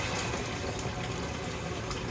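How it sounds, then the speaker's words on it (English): Crushed tomato poured into a cooking pot of Roman-style tripe, a steady dense liquid rush and splatter lasting a couple of seconds, close and continuous with no talking. "we're gonna throw in our crushed tomato. So I'm gonna pour that in there."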